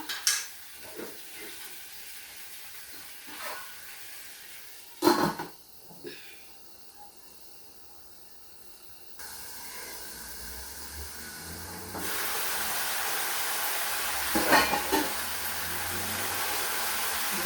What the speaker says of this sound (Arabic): هاد الدجاج تشحر مزيان